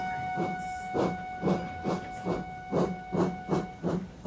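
Cartoon steam train Layla puffs along in a regular rhythm of hissing steam chuffs, about two per second, with a high steady whistle tone sustained over the top and a brief squeal early on.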